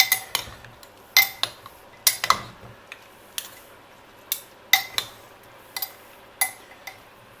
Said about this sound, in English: Gonna give this a mix and turn that off because it's hot as it is.